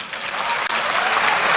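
Audience applause at a citizens' engagement event with the president at a technical university in Ghana, a dense, loud, steady wash of clapping from a large crowd with no break.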